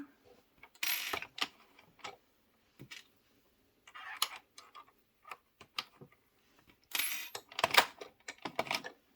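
Addi circular knitting machine cranking, with intermittent mechanical clicks and ratcheting bursts separated by quiet gaps, close and fairly soft.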